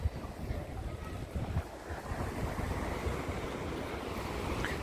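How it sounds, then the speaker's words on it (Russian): Rough sea waves washing in a continuous low rumble outdoors near a port, mixed with gusty wind buffeting the microphone. "Море волнуется."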